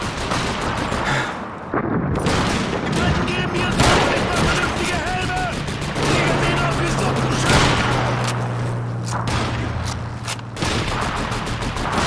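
Call of Duty 2 battle gunfire, dense rapid shots and bursts layered with explosions in a loud continuous fusillade, with voices talking over it.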